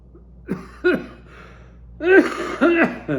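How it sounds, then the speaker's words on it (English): A few rough coughs and throat-clearing bursts, close and fairly loud, with short breathy pauses between them. "Boy, this is the cough."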